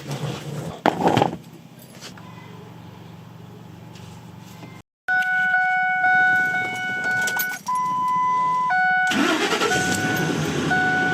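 A Ford Expedition with run-down batteries is jump-started with a portable jump starter. The engine cranks briefly and fires, then settles into a steady nearby idle, with electronic chime tones sounding over it.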